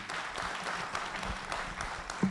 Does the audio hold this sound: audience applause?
yes